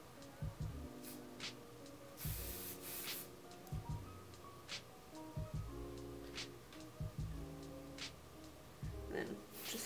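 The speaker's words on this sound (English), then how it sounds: "I'm using this Matrix Extra Hold Shaping Hairspray." Matrix Extra Hold Shaping Hairspray going on in several short, sharp hissing bursts, close and quiet, spaced between soft handling and rustling noises.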